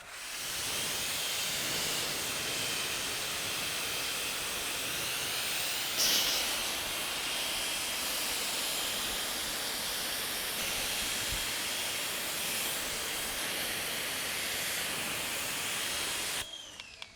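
A water spray steadily rinses car wash foam off a car, making a continuous, even hiss that runs for many seconds and cuts off abruptly at the end.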